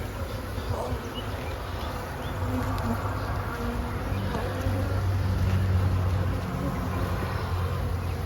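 Honeybees hum around an open beehive, a steady dense drone close by, with some background rumble and a faint voice underneath.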